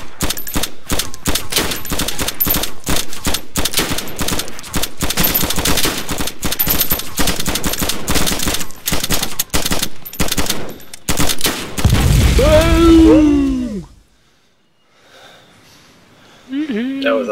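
Gunfire in the DayZ video game, a long burst of rapid, loud shots in dense rhythm that gives way to a heavy blast with ringing, then near silence, with a voice talking near the end.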